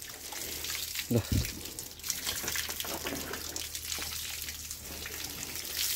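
Pond water splashes and pours steadily over a buffalo being washed, with a brief louder gush early on, while a person speaks briefly over the running water.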